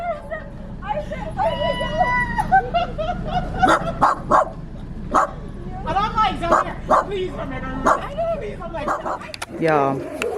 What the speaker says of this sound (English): Her dogs are going off and she's trying to figure out who the hell is in front of her house.